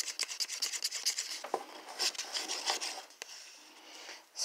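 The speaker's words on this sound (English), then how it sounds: "Scrape the stick, scrape the edges." A paint stir stick is scraped against the rim of a paint can, producing quick rasping strokes in a fast rhythm, close and continuous, with a few harder scrapes and no talking.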